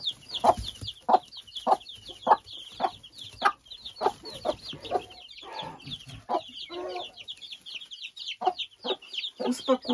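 A nervous hen clucks again and again close by, sitting with her chicks, with sharp rhythmic clucks and chickens chattering in the background.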